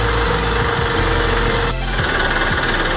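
A Ford diesel tractor engine idles steadily inside a shop, a loud, continuous low rumble with a rhythmic knocking throb and no voices.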